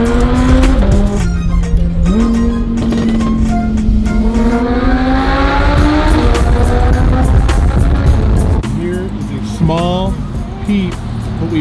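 JDM truck driving near a freeway, its engine note rising and falling loudly through gear changes with some tire noise, while a person talks over it throughout.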